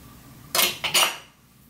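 Metal spoon clinking and scraping in a dish while mixing a sauce of soju, pepper and seasonings for braised pollack, two or three quick bright clatters over a quiet room.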